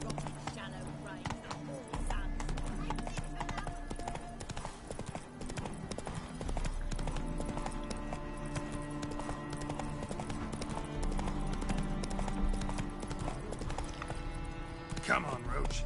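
Hooves of the horse Roach clip-clop at a gallop in The Witcher 3, a steady rhythmic beat running throughout over game music, with a brief whinny possible.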